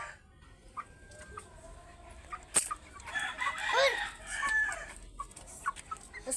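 Roosters crowing and clucking nearby, with a sharp knock partway through and a dog barking faintly; clucks and a drawn-out crow dominate the middle, no clear speech.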